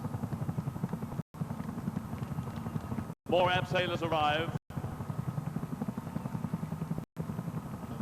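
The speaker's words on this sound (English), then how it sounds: "The helicopters from the Commando assault ship start taking the Marines ashore." Military helicopters from a Commando assault ship ferry Royal Marines ashore during a 1987 Royal Tournament display, their rotors giving a loud, steady rhythmic thudding while someone narrates over it, with a brief busier burst midway.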